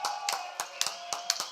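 Scattered clapping from a competition crowd celebrating a university team crossing 1,000 points, heard as irregular sharp claps fairly close, with no cheering voices evident.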